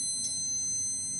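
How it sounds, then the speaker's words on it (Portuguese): A steady electronic beep from a Hikari HM-1000 multimeter during a continuity test on a good fuse, a faint continuous high tone held through the whole moment with no talk. "dar um bip, ok?"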